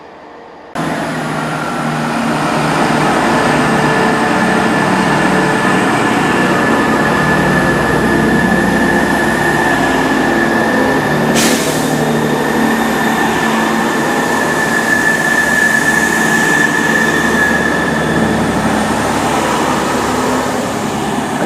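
Class 166 and Class 165 diesel units running empty stock out of Reading station on the Great Western Main Line, a steady sustained rumble with a high whistling tone and a brief sharp squeal midway, continuous and fairly loud throughout.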